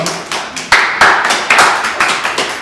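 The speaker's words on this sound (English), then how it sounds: "A round of hand clap" Scattered hand claps ring out at a community meeting, a few sharp, close slaps spaced unevenly over a couple of seconds rather than a full, dense round of applause.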